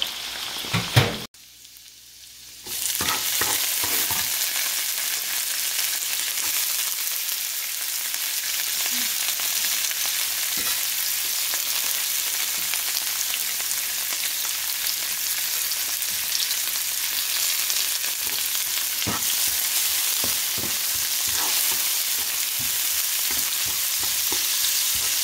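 Tofu frying in a pan before mung bean sprouts are added, giving a steady loud sizzle with soft crackles and occasional stirring clicks after a brief quiet moment at the start.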